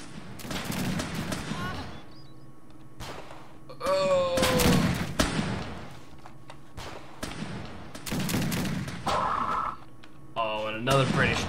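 Volleys of musket-style gunfire crackle through a Valley Forge battle scene in repeated bursts, mixed with shouting and voices talking over the fighting.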